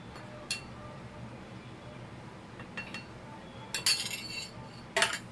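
A metal spoon stirs and clinks against a bowl of batter with pepper powder and cardamom, producing faint scraping and a few sharp clinks toward the end.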